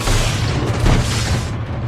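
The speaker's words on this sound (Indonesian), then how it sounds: "menjatuhkan batu berikutnya yang membuat ledakan tanaman berduri semakin menjadi-jadi" A rumbling blast as a dropped rock sets off exploding thorny plants in a Predator: Badlands film scene, a loud, deep boom that swells and then fades over about two seconds.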